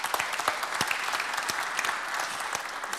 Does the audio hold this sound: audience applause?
yes